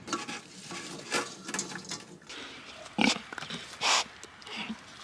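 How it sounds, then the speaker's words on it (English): Pigs grunting and snuffling outdoors by a mud hole as they are fed, in short irregular bursts with a couple of louder squeals near the end, fairly close and no talking. "You like helping me feed the pigs?"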